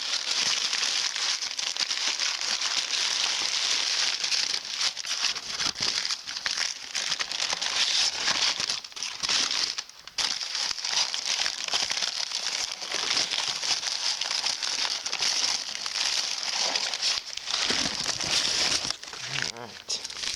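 Packaging for replacement clutch parts for a 150cc GY6 scooter engine being unwrapped, with steady crinkling and rustling of plastic and paper running throughout, close to the microphone, broken by a few short pauses.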